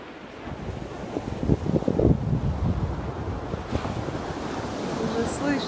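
Waves break on the Atlantic shore at Zandvoort beach, a steady rushing surf roar with a louder surge midway, mixed with wind buffeting the microphone.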